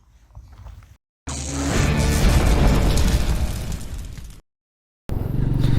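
A Royal Enfield Meteor 350 motorcycle engine fires up with a loud, thumping roar that holds for a few seconds, cuts out briefly, then returns.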